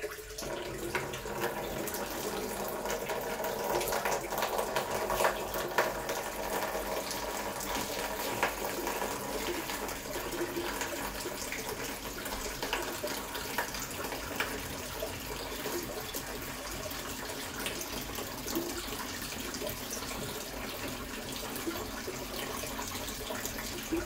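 A tap runs water steadily during aquarium servicing, a continuous broadband splashing hiss that holds at an even level throughout with no speech.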